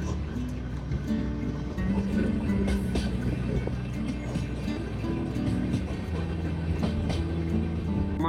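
A Vasco da Gama Express train pulls away from Tiptur station on the Bangalore to Goa route, a steady low rumble with rattling and faint clacks heard from inside the carriage, with occasional background voices.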